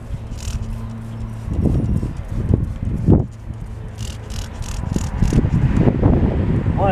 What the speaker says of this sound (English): Boy, I picked the coldest, windiest day.